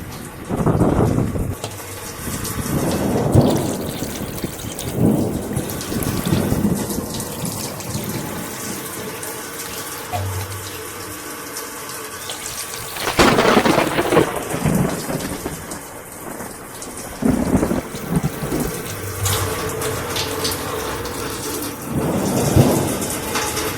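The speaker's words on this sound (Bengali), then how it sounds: "দেখুন কি পরিমাণ বৃষ্টি হচ্ছে তবুও ভিডিও করছি" Heavy rain pours steadily outdoors while deep thunder rumbles and cracks several times, rolling loud and close over the constant downpour.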